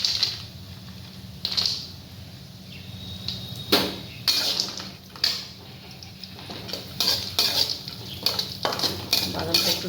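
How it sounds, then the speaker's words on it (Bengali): A spoon scrapes and clatters against a pan as peanuts are stirred while frying with chopped raw onion and chilli, in irregular bursts of metallic scraping with brief pauses, fairly close. "বাদামটা একটু নাড়াচাড়া করে নেব।"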